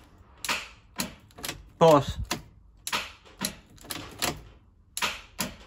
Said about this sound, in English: our starter is now clicking